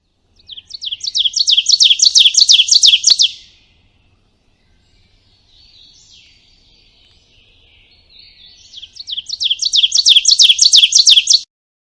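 A black-and-white warbler sings two loud, close bursts of rapid high squeaky two-note phrases, a teacher-teacher pattern, separated by a quiet gap with faint distant chirping.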